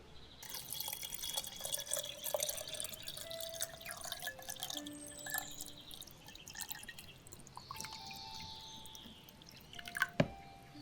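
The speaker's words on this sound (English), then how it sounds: "so let's just fill the water back up" Water runs and drips as an aquarium tank is refilled after a water change: a steady trickle with scattered drips and a few brighter splashes near the end, close and fairly quiet.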